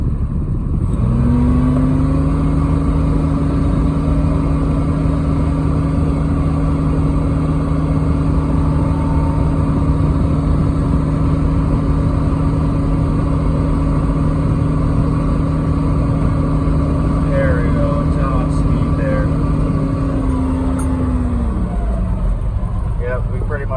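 A Kubota X1100C utility vehicle with over 10,000 km climbs out of a ditch, its engine holding a loud, steady drone with a constant pitch throughout before easing off near the end.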